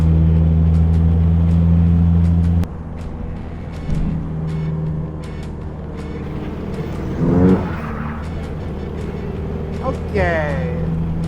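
A Jeep XJ with a TORQ locker in its 8.25 axle accelerates, engine droning loudly and then shifting, with a rough note around 3,200 RPM on each shift; a voice speaks over the engine.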